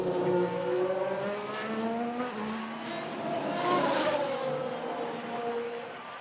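F1 cars from the F1 Manager 22 racing game run side by side, engine notes rising and falling in layered whines that sweep in pitch as they pass, steady and loud throughout with no talk.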